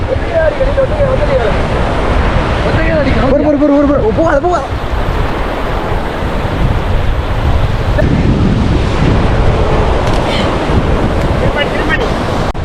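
Sea waves wash continuously onto a beach, a loud steady roar of surf that is rough with wind noise on the microphone, while people talk over it now and then.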